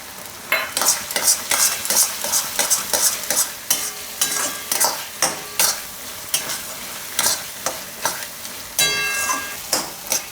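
Peas and tomatoes cook in a pan with a soft sizzle underneath. A utensil stirs and scrapes in a quick, repeated rhythm of many short bursts, fairly close, with no talking.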